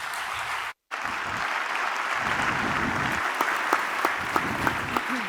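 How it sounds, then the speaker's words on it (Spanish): A conference audience applauds to welcome a panel, steady broadband clapping after a brief dropout near the start, with a few sharper individual claps standing out toward the end. "un merecido aplauso para ellos"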